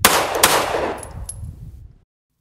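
Rifle gunshots as a sound effect: loud, close bursts with two strong hits at the start, then a reverberant tail that fades to silence within two seconds.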